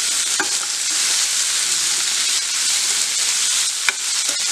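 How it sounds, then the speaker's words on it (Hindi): A ghiya kofta spice mixture with ground coriander sautés in a pan, giving a bright, constant hiss of sizzling oil with a few sharp clicks from stirring. "दो तीन मिनट के लिए हमने इसको ऐसे सॉटे करके इसको फिर हमने गैस बंद कर देनी है"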